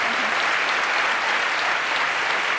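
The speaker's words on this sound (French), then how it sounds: "Applaudissements pour Mme Mulot." A French TV studio audience applauds steadily, a dense, loud and continuous clatter of many hands that fills the whole stretch with no talk over it.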